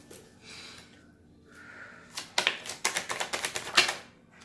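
Tarot cards shuffled and drawn, with soft rustles followed by a rapid series of crisp, sharp riffling snaps, close and fairly quiet, with no voices.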